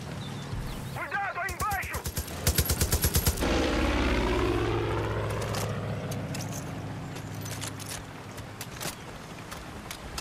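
Airplane in the Far Cry 5 video game roaring loudly close by, with a sustained droning engine sweep mixed with rapid gunfire bursts, heavy game action and a voice speaking over it.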